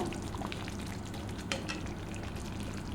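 Eggplant for dahi baingan sizzling and frying in a pan while being stirred, a steady dense crackle throughout with occasional scraping clinks, close by and without speech.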